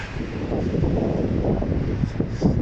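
Low, rumbling gusts of wind buffet the microphone continuously outdoors in Saskatoon, Saskatchewan, a heavy blustery roar with no voices.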